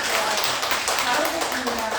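Parents at a parenting-education session applaud together, a continuous patter of many hands clapping at close range for the full brief stretch.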